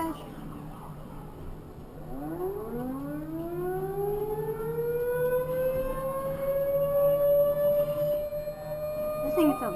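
A homemade tornado siren winds up into a rising wail, its pitch climbing steadily and sustaining loud and close for several seconds, with no talking over it.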